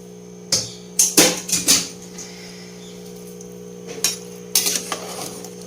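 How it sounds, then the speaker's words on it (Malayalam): Clanks of a ladle and vessel against a steel pot as sautéed okra goes into simmering sambar, a cluster of four sharp metallic knocks, a pause, then a few more, close and fairly loud with a steady hum beneath. "ഇനി നമുക്ക് ഈ വഴറ്റി വെച്ചിരിക്കുന്ന വെണ്ടയ്ക്ക ഇതിലേക്ക് ഇട്ട് കൊടുക്കാം"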